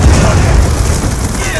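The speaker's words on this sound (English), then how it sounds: "Be advised, hostile UAV incoming. Hellstorm missile inbound." A Hellstorm missile explodes in a first-person shooter video game, giving a loud, dense roaring rumble that fills the whole short moment and slowly tapers at the end.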